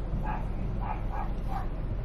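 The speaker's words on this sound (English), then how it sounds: "There's a dog barking." A dog barks outdoors at night, four evenly spaced barks over about two seconds, moderately near and clear against low background hum.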